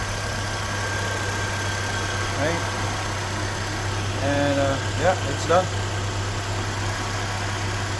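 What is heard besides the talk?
Nissan Altima engine idling while warming up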